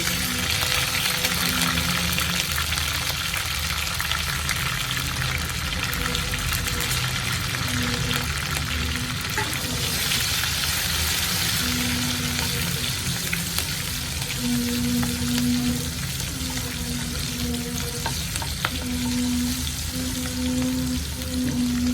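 Curry leaves and green chillies fry in hot oil with a dense, loud, crackling sizzle that holds steady throughout, while a low hum runs underneath.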